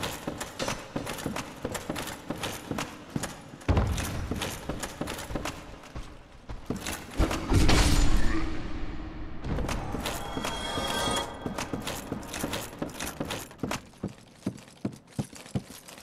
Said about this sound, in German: Da kommt erstmal das grinsende Pferd wieder.